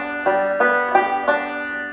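Banjo strings picked close to the bridge, giving four bright plucked notes about a third of a second apart, each ringing with a crisp attack and a short sustain, close and clear with no talking.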